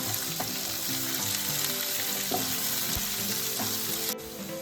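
Continuous loud sizzling of ginger and garlic sautéing in a hot pan, with occasional soft clinks of stirring, no voices.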